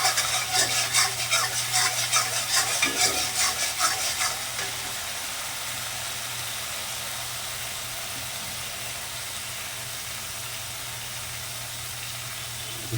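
Spice paste sautéing in a pan for a fish and eggplant curry, a busy crackling sizzle with stirring scrapes for about four seconds before settling into a quieter, steady low hiss with no talking.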